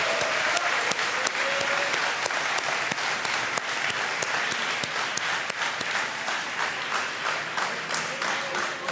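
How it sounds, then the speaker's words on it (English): Dense, steady applause from an audience at a high school awards ceremony, loud and sustained throughout with many overlapping hand claps and no break. "A warm applause for all the time and effort from Mr. Evans and Mr. McPherson."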